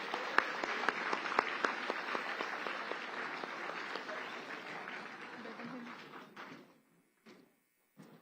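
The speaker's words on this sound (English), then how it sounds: "Now let us all give everyone and our speakers and panel of reactor a round of applause" An auditorium audience applauds at the close of a lecture on impeachment by a former Supreme Court justice, dense clapping that holds steady, then thins and dies away after about seven seconds, leaving a few scattered claps.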